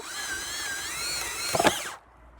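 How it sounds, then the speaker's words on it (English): Power drill whining steadily under heavy downward pressure as it bores forward through material, its pitch wavering, then a brief rattle as it breaks through before cutting off; close and loud, no talk. "We're going to drill forward."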